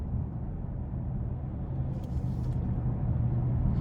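A 2018 Genesis G80 5.0 sedan accelerates from inside the cabin, a steady low engine rumble and road roar that swells slightly toward the end, with no talking.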